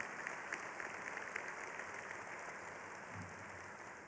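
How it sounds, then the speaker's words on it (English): Applause from a crowd at the Salvation Army of Syracuse's 51st Annual Civic Celebration luncheon, a steady dense clatter of many hands that continues without pause, heard from a distance and fairly soft. "So let's give that an applause."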